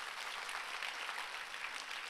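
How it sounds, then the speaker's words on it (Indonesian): A church congregation claps during an Indonesian sermon, a steady, dense wash of applause that holds at an even level with no clear breaks and no talk over it. "boleh saya lihat tepuk tangannya"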